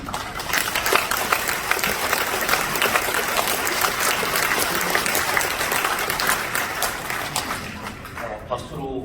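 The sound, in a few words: congregation applause welcoming the preacher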